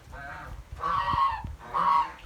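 Geese honking during egg collection on a backyard farm, three loud drawn-out honks in a row with brief pauses between, close by and with no voices.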